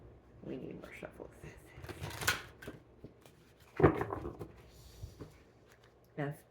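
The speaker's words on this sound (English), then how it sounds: "We need more shuffles." Tarot cards being shuffled by hand, soft riffling and slapping bursts in a few short spurts, close and quiet, with faint murmuring between.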